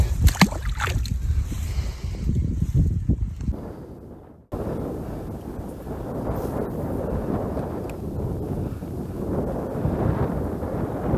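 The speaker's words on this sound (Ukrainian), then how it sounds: "бачите, вітер продовжує дути" Wind buffets the microphone in rough, rumbling gusts that drop out for a moment, then continue as a steady, blustery roar, outdoors during spin fishing for pike and perch in May.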